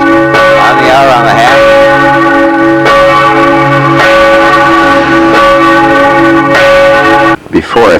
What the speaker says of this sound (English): That's rather typical for all of the big copper brass bells, I guess, in those churches. They ring them on the hour